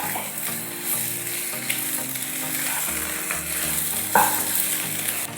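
Onions crackle and sizzle in hot oil as they are stirred, with scraping strokes in the pan for a beef dish, a steady close sizzle that swells briefly near the end.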